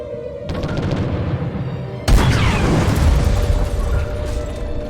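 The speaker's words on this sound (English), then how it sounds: "Changing heading now. Torpedoes away!" Torpedoes launch in the video game Treasure Planet: Battle at Procyon. A short burst comes first, then a louder booming blast about two seconds later that keeps rumbling to the end.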